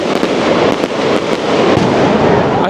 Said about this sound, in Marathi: आता मस्त फटाके फोडायला आणि बघा वरती गेला